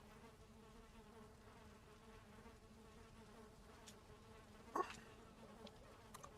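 Bees buzzing in the Valheim video game form a steady, low insect drone throughout, with a brief louder sound near the end.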